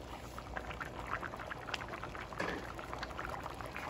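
Pot of stock with crayfish bubbling at a low, steady boil, quiet liquid burbling and small pops close by, with no talking.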